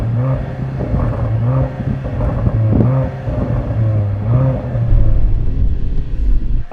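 A car engine revs repeatedly in short bursts with a rumbling exhaust, each rise and fall of pitch clear and close, with no voices over it.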